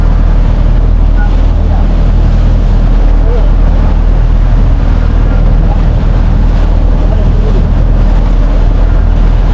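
A loud, continuous boat engine roar runs at high revs throughout, dense and unbroken, with wind buffeting the microphone, near Polillo Island.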